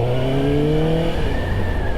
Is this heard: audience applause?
no